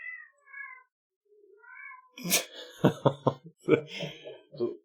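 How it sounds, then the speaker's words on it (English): A new kitten mews several times, short high wavering calls spaced apart, then a burst of louder scratchy cries and throaty sounds close to the microphone. "That's our new kitten, actually"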